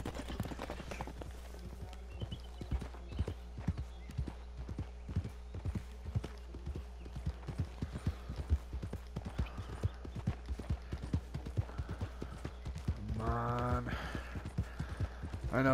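Horse hooves galloping in Red Dead Redemption 2, a fast, steady clip-clop rhythm that runs the whole time under a low rumble, with a brief swell of other sound near the end.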